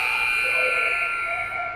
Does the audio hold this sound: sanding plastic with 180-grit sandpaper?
no